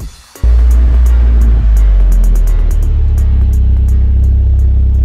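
An Alfa Romeo 147 engine starts with a sudden loud burst, then revs up and settles into a deep, powerful rumble close to the microphone, with no voices.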